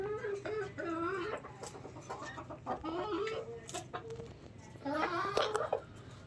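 A hen clucks repeatedly after laying an egg, loud, close and rhythmic, with a brief louder burst of cackling toward the end, set against a busy bird-room background.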